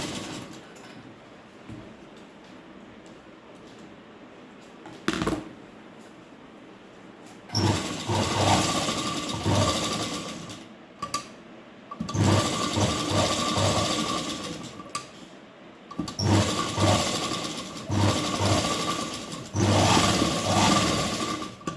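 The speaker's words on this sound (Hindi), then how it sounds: "यहाँ से हम सिलाई करना शुरू कर देंगे" Sewing machine stitching kurti fabric in bursts, quiet at first, then loud runs of rapid stitching separated by short pauses, close by and with no talking.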